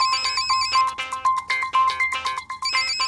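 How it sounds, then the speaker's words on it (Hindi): Mobile phone ringtone plays loud and close, a bright repeating electronic melody of quick tonal notes in a steady rhythm, with no talking over it. "फोन बज रहा है तेरा।"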